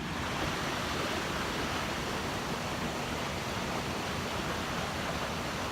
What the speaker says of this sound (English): I don't know if you're gonna be able to hear me because of the water is rushing.